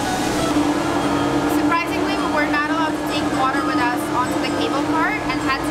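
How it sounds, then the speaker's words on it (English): Riding the SkyBridge sky train in Langkawi, Malaysia: a steady, close rolling drone with a low hum runs throughout while people talk over it. "Now we can do the Sky Train."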